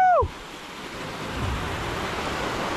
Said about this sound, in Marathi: आपल्याला हा भारीचा धबधबा लागलेला आहे